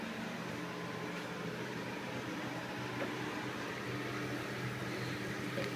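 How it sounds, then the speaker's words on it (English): A steady, dense rushing roar from homebrew wort at a strong boil in a kettle, constant and moderately quiet with no talk over it, holding an even texture throughout. "Pretty good strong boil"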